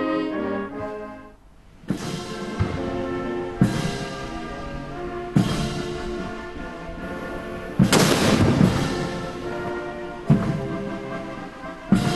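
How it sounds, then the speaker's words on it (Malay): Heavy cannon fire from a 21-gun salute at a royal welcome ceremony booms at spaced intervals over a brass band playing a national anthem, each shot a sharp loud blast. "21 das tembakan meriam"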